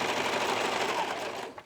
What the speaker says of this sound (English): I've got the machine set for a 3-thread wide stitch